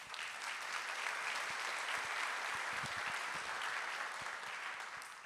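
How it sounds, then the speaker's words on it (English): Parents clapping at a school fall sports meeting: a steady, dense round of applause filling the room for about five seconds, fairly even throughout with no talk over it. "Let's give Mike a nice round of applause."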